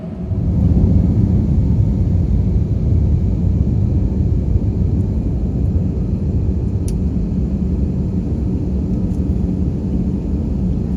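Steady low cabin rumble inside a Pelita Air Airbus waiting in the takeoff queue, engines idling as a constant broadband drone throughout with no talk.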